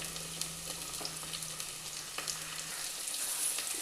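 Onions and tomatoes being sautéed in a pan for a fish curry give a soft, steady sizzle with occasional light stirring scrapes, close and fairly quiet throughout.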